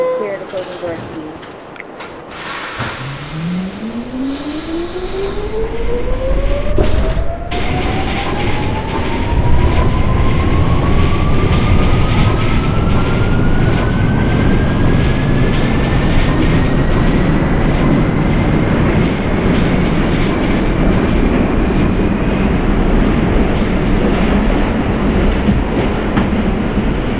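An NYC subway F train in the OpenBVE simulator accelerates out of a station, its motor whine climbing steadily in pitch over a rumbling, rattling roll of wheels, loud and continuous.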